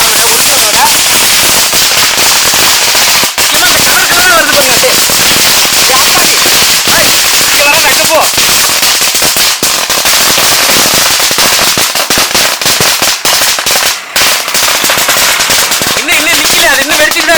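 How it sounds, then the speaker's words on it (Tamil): A long thousand-wala string of firecrackers crackles and pops nonstop in a dense, rapid barrage, loud and close, with people talking over it. "ஆயிரம் வாழாவோட எஃபெக்ட் பாருங்கப்பா"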